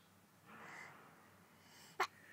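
A young boy lets out a single short, sharp sneeze near the end, brief and moderately close above a quiet household background with soft breathy sounds.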